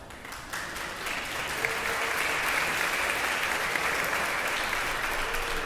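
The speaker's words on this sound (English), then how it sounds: "I saw the doctor clap" A church congregation claps together, a dense sustained wash of many hands that swells after a quieter start and holds steady for several seconds without voices.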